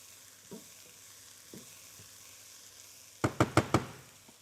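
Carrot, capsicum and onion fry gently in olive oil with coriander stems, garlic and ginger. A faint, low sizzle runs steadily under a few soft taps, ending in a quick run of four sharp knocks from a stirring utensil.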